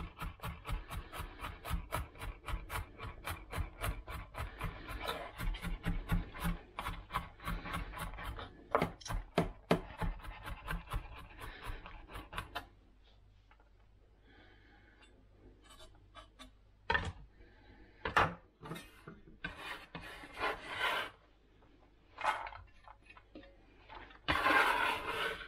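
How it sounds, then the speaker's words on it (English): Knife chopping through vegetables on a cutting board during Sunday meal prep, a fast steady run of crisp taps for about twelve seconds, then sparser, irregular chops and scraping with pauses. "just run my knife through them real quick"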